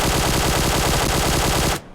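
A QBZ assault rifle fitted with a light grip fires in PUBG Mobile: a loud, unbroken burst of rapid automatic shots that cuts off abruptly just before the end.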